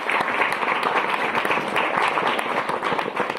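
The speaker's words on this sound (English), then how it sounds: "Huge round of applause to everyone." An audience claps together at a congratulatory ceremony at AIMS Kochi, Kerala, producing a lively, continuous round of applause with distinct individual claps audible for a few seconds and no speech over it.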